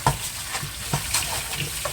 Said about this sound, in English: Starting to get a nice sambar powder sizzling in that.